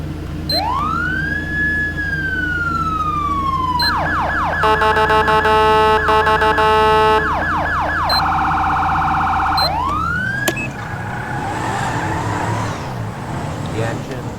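Police car siren from a game sound pack, loud and close: a rising-and-falling wail, then rapid yelp and steady high-low tone patterns, ending in a swept wail that gives way to engine rumble.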